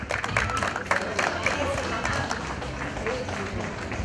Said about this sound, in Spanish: fuerte las palmas para su mamita, por favor